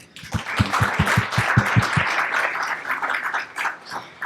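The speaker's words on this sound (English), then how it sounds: "I really would like to give a very, very strong applaud to our panel members" Audience applause for the panel members at the close of a conference session on higher education and Industry 5.0, opening with a few loud, evenly spaced claps up close, then settling into dense, steady clapping from a room full of people.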